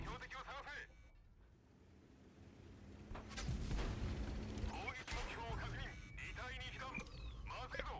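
Cannon blasts from a tank firing HE shells in a tank video game, with heavy booming bursts and rumbling explosion tails running through the clip under loud, busy game action.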